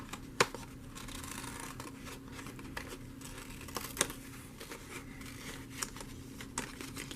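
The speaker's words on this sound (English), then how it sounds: "I'm going to now cut out the words to start in the middle and cut towards the edge" Scissors cut paper words out of a page in faint, scattered snips and light clicks against a quiet background.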